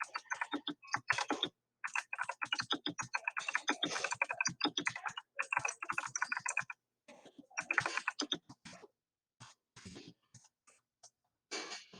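Fast typing on a computer keyboard, dense bursts of crisp close key clicks with short pauses between runs, steady and alone.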